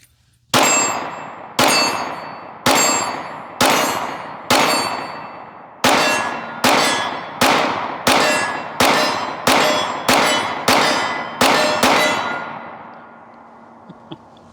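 A Glock 19 Gen 5 pistol fires about fourteen shots at steel targets in a fairly even rhythm, each sharp crack followed by a ringing metallic clang, loud and close, with no talk.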